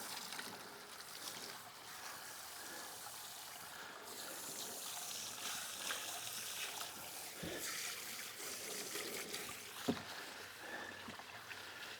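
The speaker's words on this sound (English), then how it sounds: "Just rinse them a little." Dug potatoes are rinsed with water, a faint, steady trickle and splash with a couple of soft knocks, heard close and alone.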